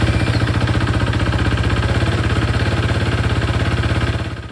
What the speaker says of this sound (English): So here my bike has started